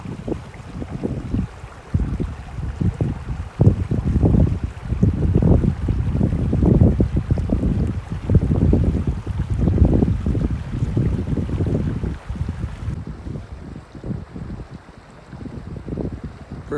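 Steady breeze outdoors beside Rock Creek in the Eastern Sierra on a cool, cloudy November afternoon, a constant rough wind rush with low buffeting and flowing water underneath, no voices.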